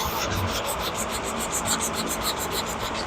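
Steady back-and-forth rubbing of sandpaper over combi putty body filler on a 1966 Ford Galaxie, a close, even rasping rhythm heard alone.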